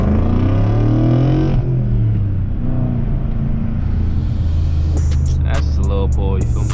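A BMW 540i pulls hard under acceleration, its engine a loud, steady low rumble that holds throughout, with a brief sharper burst of mechanical noise near the end.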